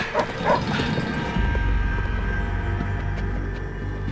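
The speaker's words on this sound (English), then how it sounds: "I'm listening to a dog." A dog gives a few sharp barks and yips early on, then whimpers under a steady low rumble of background noise, heard fairly close.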